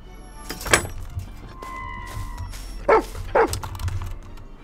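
A dog barks a few times in a horror game, sharp separate barks spaced apart over a dim, thudding ambient background.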